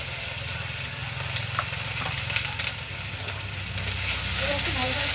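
Garlic and ginger fry in a hot pan, a continuous close sizzle and crackle with a low rumbling undertone and a few brief scraping stirs.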